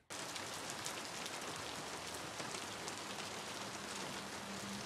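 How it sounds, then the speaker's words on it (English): Heavy rain pours steadily in a film scene, a dense, even hiss of drops striking surfaces that holds constant throughout, heard alone at low volume. "I'm at the house on Barbary, and I'm on the porch, and it's pouring with rain."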